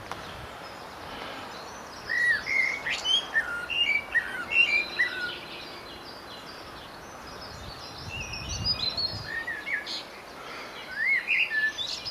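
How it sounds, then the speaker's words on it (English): Blackbirds sing near Washford railway station in the countryside. Their clear, fluting phrases come in intermittent bursts at moderate distance over a soft outdoor background. "nice to hear the blackbirds sing"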